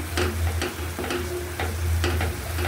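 Yardlong beans and boal fish curry being stirred in a pan: a steady sizzling simmer broken by regular scraping strokes of a spoon against the pan, about five in quick rhythm, close up with no talk.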